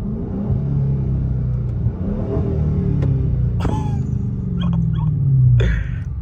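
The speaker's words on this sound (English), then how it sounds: "my stock exhaust sounded good, but this sound... This gave it a more deeper tone" A 2023 Dodge Scat Pack with a Dynomax Race Bullet exhaust rumbles nearby with a deep, steady idle tone that swells into a brief rev toward the end, with a faint whimper-like squeak in the background.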